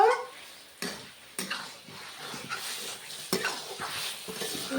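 Chicken frying in oil in a pan for restaurant-style chicken tadka, a steady sizzle broken by scraping stirs and clinks of a spatula against the pan, close up with no voices.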